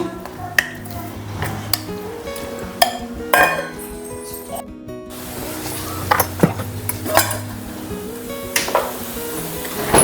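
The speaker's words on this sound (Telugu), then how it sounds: "ఒక 1 tea spoon ginger garlic paste కూడా వేసేసి అంతా ఒకసారి బాగా మిక్స్ చేసేసుకోవాలి" Marinated prawns being mixed with ginger garlic paste in a kitchen bowl, giving light clinks and scraping clicks of utensil against dish, scattered and fairly close over a steady background.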